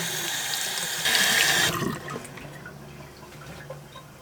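Aquarium lily pipes rinsed under a running tap, with a loud steady stream of water that briefly intensifies and then cuts off, leaving faint drips and quiet splashes.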